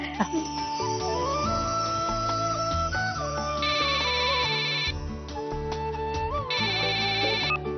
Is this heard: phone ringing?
yes